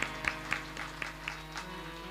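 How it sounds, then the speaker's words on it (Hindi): Loud applause from the audience at a Hindu religious discourse on the story of Dhruva, a steady wash of clapping with sharper individual claps popping out at a regular beat, moderately distant and continuous. "जोरदार ताली"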